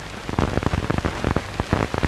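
Rain in a 1939 Argentine film pours down in dense, uneven bursts of drops striking surfaces close by, loud and continuous with no voices.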